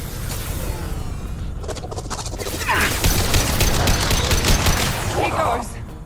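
Impact Shot ability gunfire in Mass Effect 2 on PS5, Legendary Edition. Crackling shots and blasts sit in a dense, loud combat din that swells partway through, with chaotic battle noise and some voices mixed in.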